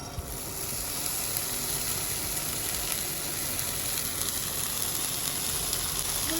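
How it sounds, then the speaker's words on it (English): A loud, steady sizzle of termites frying in a heated pan fills the clip continuously, close and dense, with faint crackles scattered through it. "the next step I took was to heat the frying pan before pouring the termite"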